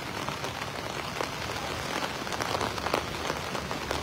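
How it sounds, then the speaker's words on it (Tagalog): Continuous heavy rain pours down during Typhoon Carina along the Marikina River, a dense, steady hiss of drops on surfaces with no pauses. "Kasi continuous pa rin po yung pag-uulan."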